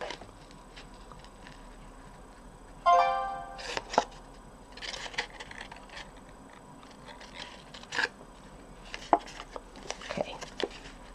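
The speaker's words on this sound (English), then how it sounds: "I'm going to cut this one as well a little bit" Scissors snipping card stock for a handmade Stampin' Up! card, a few crisp cuts and scrapes spread out over quiet room tone, close and fairly soft.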